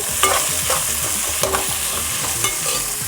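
Mixed vegetables with peas and shredded cabbage stir-frying on high flame for street-style veg fried rice, a steady close sizzle with repeated scraping strokes of a spatula against the pan, no talk.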